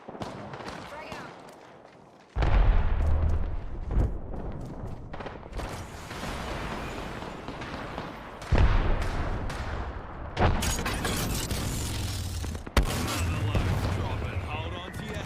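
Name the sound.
grenade explosion and gunfire in a video game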